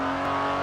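A TVR Sagaris engine at full throttle, a loud, close, sustained rev with a steady droning tone and no voices over it.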